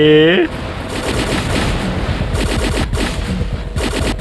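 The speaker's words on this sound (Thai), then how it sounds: "นี่คือปืนมันก็แบบเบานะ มันไม่ได้แรงเลยนะปืนใหม่เนี่ย ยิงไม่ค่อยจะเข้าเลยอะ" Rapid automatic fire from a new gun in the mech combat game War Robots, a dense, sustained burst of loud, close shots with short breaks, following a brief tonal sound at the start.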